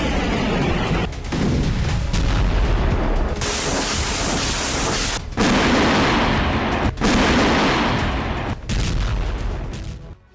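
Heavy artillery fire and blasts from the Russia–Ukraine war, a dense continuous roar of booms and gunfire with several sharp cracks breaking through, loud throughout.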